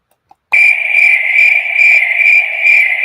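A loud, close cricket chirp starts abruptly after a short silence and continues as a steady pulsing trill to the end, with no talking.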